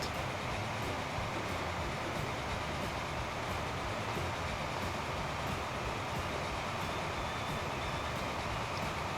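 A cargo steam locomotive in the game Transport Fever rolls past in a steady, continuous rail rumble with faint rhythmic clicks, holding an even level throughout with no talking.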